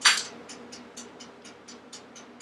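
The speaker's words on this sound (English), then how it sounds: "And if you hear the clicking noise in the back of me, that's my toaster oven." A toaster oven ticks softly in a home kitchen, a steady run of light, evenly spaced clicks about four per second, faint in the background after a brief brighter rattle at the start.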